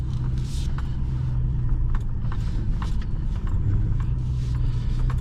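A car approaches under open throttle, its low engine rumble steady and loud throughout, with some brief higher rattles and bumps over the drone.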